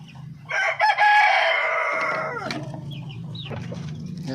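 Darag native chickens on a farm, a rooster crowing loudly and close for about two seconds over steady low clucking and hen chatter, then a softer trailing crow.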